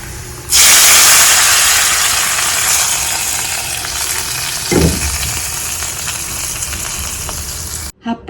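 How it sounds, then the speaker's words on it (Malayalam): Hot coconut-oil tempering with curry leaves poured into a roasted-coconut tuna curry, bursting into a loud, steady sizzle that hisses continuously for several seconds, with a brief clatter midway before cutting off. "നമുക്ക് താളിപ്പ് കറിയിലോട്ട് ഒഴിക്കാം കേട്ടോ"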